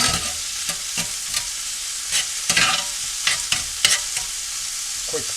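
Steak and scallops sizzle steadily in a hot pan while a utensil stirs them, with a series of distinct scraping and clattering strokes over the continuous close frying hiss.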